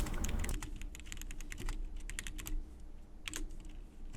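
Rapid clacking keystrokes on a budget $40 computer keyboard, a dense, fast run of close, fairly loud clicks heard alone with no talking.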